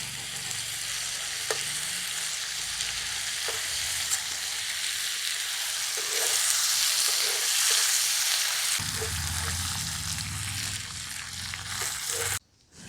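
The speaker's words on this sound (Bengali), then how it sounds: "নুন, হলুদ আর গোলমরিচ গুঁড়ো দিয়ে মাখিয়ে রাখা চিকেনগুলো একটু ভেজে নেব।" Chicken pieces coated in salt, turmeric and ground pepper fry in oil with a constant dense sizzle up close, swelling louder midway, with occasional spatula taps and stirring before a sudden cut at the end.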